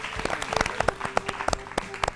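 A small group claps in answer to a correct quiz answer during a children's fun-learning lesson. The claps are close and distinct, arriving in uneven bursts over about two seconds.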